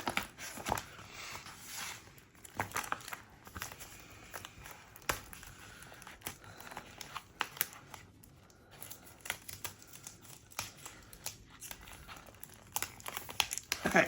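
Decorative craft material being peeled up along a knife cut, a run of close, quiet crinkling and crackling with scattered sharp tearing snaps over about fourteen seconds.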